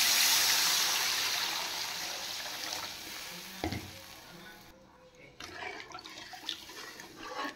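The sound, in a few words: water poured into frying spices for katla fish curry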